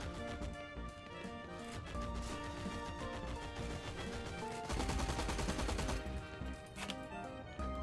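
An MG 13 machine gun fires in Heroes & Generals, its bursts buried in a faint mix under loud music, with a denser rattle toward the end.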